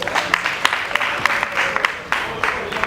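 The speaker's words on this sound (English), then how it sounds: "Please, round of applause." Audience at a World Sickle Cell Day 2016 conference in Ghana applauds steadily with dense, sustained clapping that swells briefly with sharper bursts, close and loud throughout.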